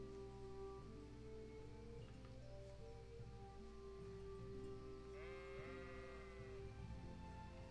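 Sheep bleating in the medieval video game Kingdom Come: Deliverance near a sheep paddock, a few wavering bleats set against a steady layer of game music and ambience, soft and somewhat distant, with no talking.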